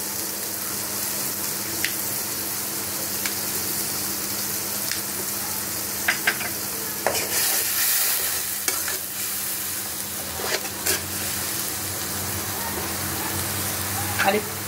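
Spices with salt, turmeric and green chillies sautéed in oil in a pan, a steady low sizzle with intermittent scraping stir strokes over about fifteen seconds, no talking.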